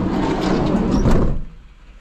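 A van's heavy sliding door rolls shut with a loud, sustained rumble and a final thud, then the sound drops to quiet room noise.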